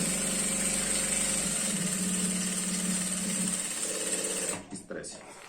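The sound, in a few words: sewing machine stitching a girl's skirt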